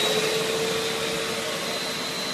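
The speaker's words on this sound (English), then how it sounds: "it's noisy, but it's about what I'd expect a vacuum cleaner to be as far as noisy" A Hoover TaskVac commercial bagless lightweight upright vacuum cleaner runs steadily at close range, a loud constant whine and rush of air with a faint high tone.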